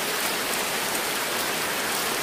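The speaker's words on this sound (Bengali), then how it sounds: "দেখা যায় কীভাবে বৃষ্টি পড়ে" Steady monsoon rain falls during a flood in Silchar, a dense and even hiss of drops hitting surfaces that holds at a moderate level throughout, with no voices.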